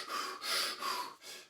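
A voice imitates rapid, irregular scuba breathing like a choo-choo train: four quick, close, loud breathy puffs in an uneven rhythm, with no words.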